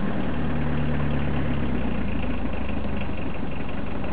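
A Peugeot 309 with a 1.9 diesel engine idling just after a cold start, giving a loud, steady, close-up low rumble and clatter that continues without talking.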